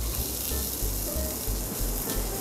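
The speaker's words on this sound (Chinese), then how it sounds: "首先炒香啲洋葱同埋金盡先嘅" Chopped onion and minced garlic sautéing in a little oil over medium heat, a quiet continuous crackling sizzle with soft low thumps of the pan, no talking.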